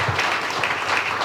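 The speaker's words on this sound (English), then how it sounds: "So I just want to give a round of applause" An audience at a startup demo day event gives a round of applause, a dense, steady wash of many hands clapping, loud and sustained throughout.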